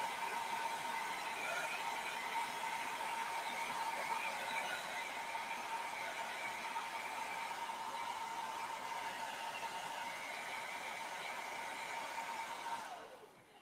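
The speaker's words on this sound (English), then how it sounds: "hopefully that'll knock out the dryer sound in a minute" Steady hair dryer drying altered playing cards on a craft table, a continuous loud whoosh with a whining tone that holds evenly for about thirteen seconds before cutting off abruptly at the end.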